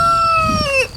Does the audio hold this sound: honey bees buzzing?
no